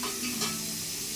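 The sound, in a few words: chopped onions frying in oil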